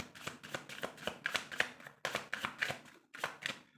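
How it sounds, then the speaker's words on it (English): Tarot cards being shuffled by hand, a rapid run of crisp riffling flutters in quick rhythmic bursts with short pauses, close and clear with no talking. "Last shuffle."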